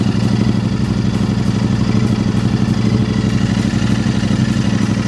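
A steady mechanical hum with a low droning motor tone runs unbroken throughout as air ride suspension raises the rear of a modified Royal Enfield Interceptor 650, at close range, with no talking.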